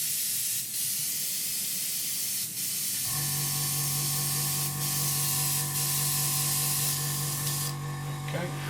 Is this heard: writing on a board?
no